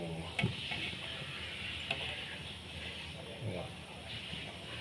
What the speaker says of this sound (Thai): เดี๋ยวนี้เดือดเลยครับ